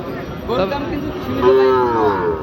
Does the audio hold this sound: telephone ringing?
no